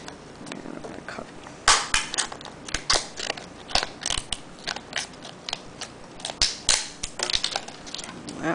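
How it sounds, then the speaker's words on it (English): Soft polypropylene plastic box being cut along a line, giving a run of crisp, irregular snipping and crunching bursts, close and fairly loud with short gaps between cuts. "And polypropylene is a very soft plastic, so you can just cut along that line."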